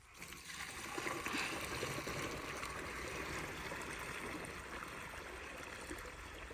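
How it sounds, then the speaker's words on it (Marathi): Water pours steadily onto maize plants in a Maharashtra field, a continuous close rushing and trickling hiss that keeps going without pause and with no voices. "मी मकाला पाणी देतोय"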